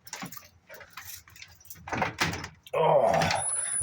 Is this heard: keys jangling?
yes